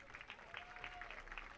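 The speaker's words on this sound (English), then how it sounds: "Round of applause from the fans." Fans in the stands at a Grimes Bowl football game applaud as an injured player is helped off the field, a faint, distant patter of clapping with light crowd noise.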